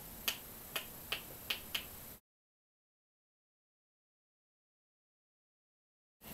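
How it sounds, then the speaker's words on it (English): Batteries held in a hand click together five times in quick, evenly spaced sharp ticks, close and distinct, followed by abrupt silence. "I'm holding batteries in my hand. Whoa, that makes an awesome noise."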